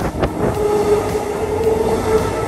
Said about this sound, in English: And here's our train, the Prospector.